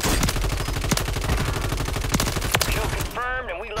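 Rapid automatic gunfire from a Call of Duty match, a dense run of loud shots for about three seconds that cuts off as a voice starts speaking.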